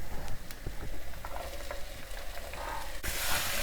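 Beetroot, carrot and drumstick sauté in masala on a low flame, a steady sizzle with irregular scraping and clattering of a stirring spoon, growing into a louder hiss toward the end.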